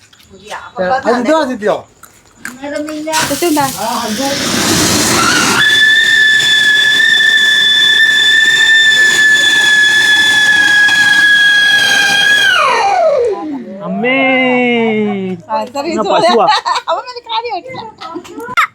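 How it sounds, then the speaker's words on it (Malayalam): A loud, steady whistling shriek from a firework rocket at Vishu festival celebrations holds for several seconds, then slides downward in pitch, with children's excited voices before and after. "റോക്കറ്റ് നോക്കിക്കേ"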